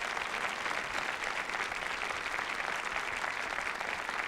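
Sustained applause fills a hall at a high school academic competition award presentation, many hands clapping in a thick, even roar that holds steady for several seconds with no voices.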